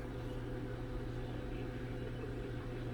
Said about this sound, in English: Oh, the microwave is going.